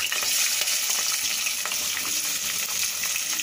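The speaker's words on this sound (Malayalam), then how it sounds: "ഇനി ഇതിലേക്ക് നമുക്ക് ഒന്നിയൻ ചേർത്ത് വഴറ്റി എടുക്കാം" Onions sautéing in a pan with whole spices (cloves, cardamom, cinnamon) for butter paneer masala give a steady, close frying sizzle with faint stirring scrapes throughout, no voices.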